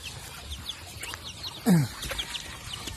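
Turkeys cluck and gobble nearby while feeding, with one louder bird call standing out over a soft, busy background of farmyard noise.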